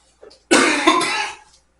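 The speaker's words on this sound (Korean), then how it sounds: "기침 계속 나와요" A teacher's cough, a single harsh burst that rasps for close to a second, loud and close, with no talk over it.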